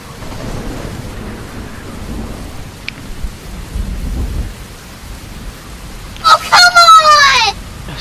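Stormy weather with steady rain and wind hissing throughout, low thunder rumbling in the middle, then a loud, close rooster-like crow near the end.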